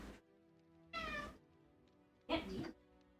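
A pet cat meows twice, loud and close, the two cries about a second apart with a quiet pause between, with no other sound around them.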